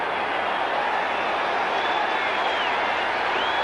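A football stadium crowd at a 1979 Broncos at Steelers game in Pittsburgh roars as a steady, dense wash of noise, loud and continuous throughout.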